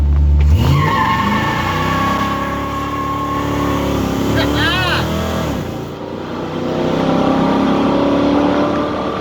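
A 1972 GMC Sierra 3/4-ton pickup roars loudly through a tire-smoking burnout, engine revving hard with tires squealing and whining as pitch rises and dips, close and continuous throughout.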